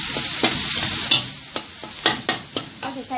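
Minced pork for fried Mama noodles stir-fried in a pan, giving a steady sizzle punctuated by several close scraping stirs of the spatula at an uneven rhythm.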